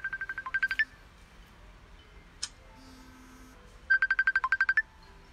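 A mobile phone ringtone plays a quick bright chiming pattern twice, with a long gap between the bursts and a soft click in the middle, fairly close and loud with no talking.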